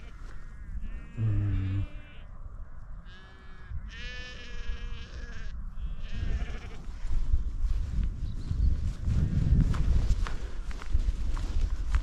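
Sheep bleat in a field beside a track, several calls near and mid-distance over footsteps walking along the path, with outdoor rustle and wind in the background.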